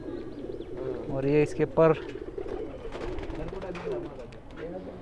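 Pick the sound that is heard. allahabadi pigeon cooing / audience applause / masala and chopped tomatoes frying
allahabadi pigeon cooing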